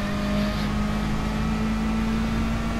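A race car in Gran Turismo Sport drives under power, its engine holding a steady, loud whine with a constant tone and no voices.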